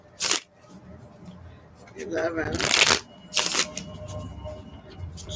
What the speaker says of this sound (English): Just to give it a good shuffle.